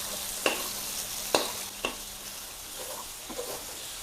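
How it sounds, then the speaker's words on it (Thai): Beaten eggs stir-fry in a hot pan for a Thai fried naem dish with glass noodles: a soft steady sizzle punctuated by three sharp spatula knocks and scrapes, then quieter stirring. "แล้วก็เทไข่ใส่ลงไปเลยค่ะ ผัดไข่ก่อน"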